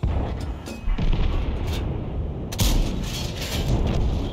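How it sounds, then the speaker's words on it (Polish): A tank cannon fires in the World of Tanks video game, with a couple of punchy booms over a dense, rumbling battle background. "a teraz powinien być jeden strzał"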